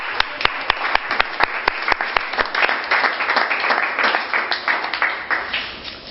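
A church congregation applauds together, a dense, steady wash of many hands clapping with a few sharp individual claps standing out, loud and continuous before slowly thinning toward the end.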